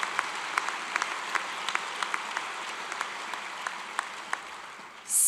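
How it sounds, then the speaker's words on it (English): Audience applause at the Naropa University spring commencement ceremony in 2025, a steady wash of many hands clapping at moderate distance with scattered sharper claps, swelling louder in the final moment. "One more round of applause for 50 years of Naropa"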